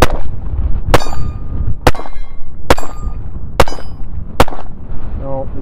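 Five sharp, evenly spaced shots from a Taurus TX22 Compact .22 pistol ring off a steel target, each crack followed by a metallic clang, close and loud over outdoor background noise.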